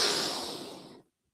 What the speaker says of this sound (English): Breathe in. Breathe out. Breathe in.